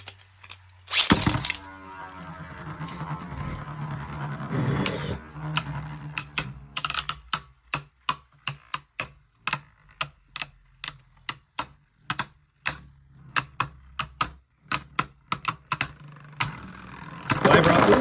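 Beyblade Burst tops Wyvern and a Hurosood re-color clash in a plastic stadium after launch: a whirring rip, then a long run of sharp, rhythmic clicking collisions that grows busier toward the end, with a person commentating.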